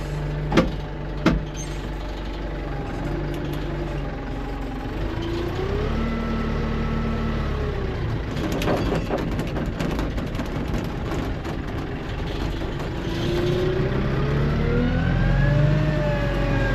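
A tractor engine labours and revs continuously while stuck and bottoming out in snow, a steady loud drone with rising and falling pitch and surging effort, heard from inside the cab, with two sharp knocks near the start.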